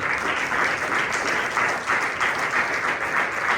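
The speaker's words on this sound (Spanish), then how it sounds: "Regalen una rueda de palmas al Señor." A church congregation applauds during a Bible study, with dense, steady clapping from many hands filling the room without a break.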